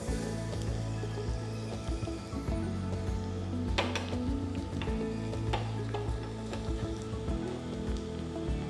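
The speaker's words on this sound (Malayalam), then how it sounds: "ഗോൾഡൻ ബ്രൗൺ കളറാകുന്ന വരെ ഫ്രൈ ചെയ്യുക" Chopped cashew nuts frying in a pan with a steady soft sizzle and occasional scraping stirs, faint and continuous with no talk.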